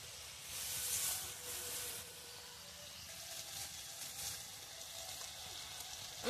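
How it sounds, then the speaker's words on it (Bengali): Water poured into a hot pan of softened cooked tomatoes, producing a faint hissing sizzle that swells briefly and then settles into a quieter steady simmer. "এবারে একটু জলটা ঢেলে দেবো।"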